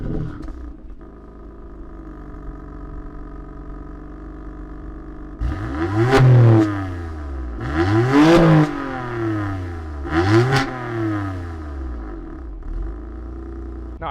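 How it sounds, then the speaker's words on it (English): A BMW M4 exhaust idles low, then is revved in three sharp bursts that climb and fall back, loud and close, with a steady idle between blips. "if it is the sound of the exhaust on this thing"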